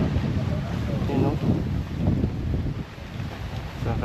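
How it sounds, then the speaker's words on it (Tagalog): Storm wind gusting hard across an open site where a tarp is about to be fixed, a loud, rough roar with buffeting bursts against the microphone, over a muffled voice. "Kaya ito unos na."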